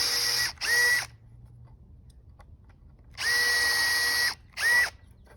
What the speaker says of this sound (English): now I'll just go back and like actually drill through them.